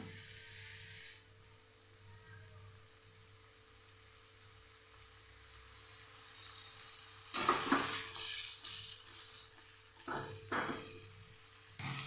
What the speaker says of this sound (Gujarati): સંભારાને થોડી થોડી વાર આપણે હલાવતા રહીશું ગેસ આપણે મીડિયમ જ રાખશું